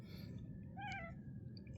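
A house cat gives a single clear meow, close by, over a steady low indoor background hum.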